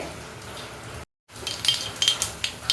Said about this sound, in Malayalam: കടുകൊന്ന് പൊട്ടി വരട്ടെ